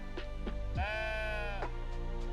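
A sheep bleats once in a video game, a clear wavering cry standing alone over a steady low background hum.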